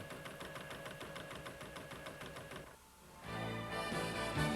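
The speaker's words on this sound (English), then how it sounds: "Then embroider the applique." A Baby Lock Ellure embroidery machine satin-stitches an appliqué heart with a steady, rapid mechanical whir. The motor briefly dips, then the stitching picks up again in a louder, denser run.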